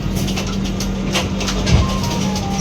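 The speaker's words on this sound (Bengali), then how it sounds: "সাঁতরাগাছি দু নম্বর প্ল্যাটফর্ম থেকে আমাদের ট্রেন ছেড়ে দিল" Steady low rumble of an AC express train car departing Santragachi station platform, with faint rhythmic clatter and a high whining tone, continuous throughout.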